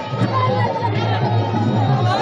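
A crowd gathered at an election-day rally in India awaiting Akhilesh Yadav's helicopter landing makes a steady murmur of chatter and babble at close range, with a voice speaking over it.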